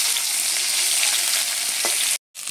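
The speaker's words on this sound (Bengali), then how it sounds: "মাছগুলো এবারে উল্টে নিচ্ছি, উল্টে নিয়ে সব দিকটাই বেশ সুন্দর করে ভেজে নেব" Large ring pieces of roop chanda fish frying in oil in a pan: a loud, dense sizzle with crackle fills the clip up close, cut by a brief silent gap before the frying resumes.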